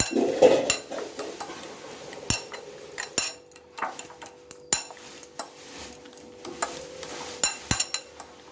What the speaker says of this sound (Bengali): ভালোভাবে এটাকে আগে আমি সবগুলো মাখিয়ে নেব